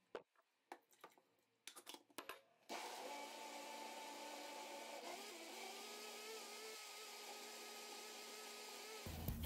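After a few scattered light taps, a blender starts up and whirs steadily at moderate volume, blending frozen fruit for jam into a smooth mixture as the motor holds a constant drone until it abruptly cuts off.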